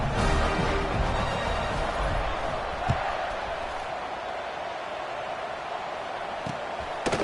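Stadium crowd at an Auburn vs. Nebraska college football game buzzing after a touchdown, a broad steady roar with scattered shouts and a few sharp bangs, continuous through the whole stretch.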